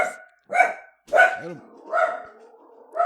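Dogs barking, several sharp, loud barks close by, spaced in an irregular series with brief gaps and one short yip-like whine in the middle.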